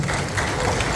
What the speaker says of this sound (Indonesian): Aku minta tepuk tangan untuk semuanya deh.